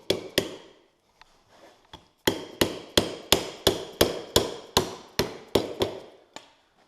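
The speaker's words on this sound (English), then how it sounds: "Just give it a couple little taps, a little soft hammer." A soft hammer taps a heated grip onto the handlebar of a Polaris Sportsman 850 Touring ATV: a dozen or so sharp, close knocks, first a few spaced hits, then a steady quick rhythm of even blows.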